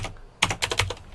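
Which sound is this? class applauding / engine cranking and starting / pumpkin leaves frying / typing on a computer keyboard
typing on a computer keyboard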